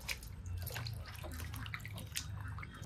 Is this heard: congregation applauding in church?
no